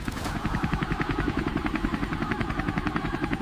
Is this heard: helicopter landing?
yes